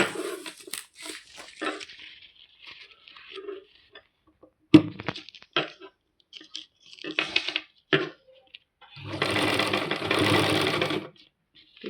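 A sewing machine stitches a zipper strip for a jute bag, first in short start-stop bursts, then in a sustained run of steady mechanical whirring, with a dog barking and whimpering between the stitching.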